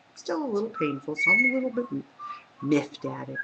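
A pet bird whistles in the background with short melodic tones, heard between and under a woman's speech.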